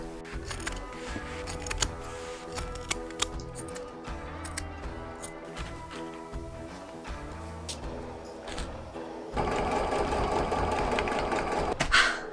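Sewing machine stitching a costume tunic, a steady mechanical whirring with rhythmic needle pulses that runs continuously at moderate level, growing slightly louder and busier toward the end.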